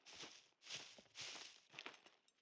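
Footsteps in the survival video game SCUM, four soft, evenly spaced steps fairly close by, quiet and alone with no talking.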